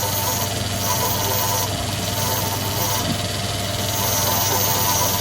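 Valve grinding machine working across the face of an engine valve, a steady mechanical whir and hum that runs unbroken throughout, close and fairly loud.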